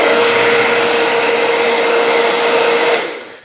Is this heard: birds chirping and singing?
no